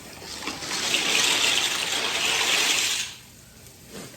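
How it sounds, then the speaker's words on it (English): Noodles are added to boiling water for macaroni and cheese: a burst of splashing, hissing water for about three seconds, then quieter bubbling as things settle; close by, no talking. "I'm going to add the noodles to my boiling water too."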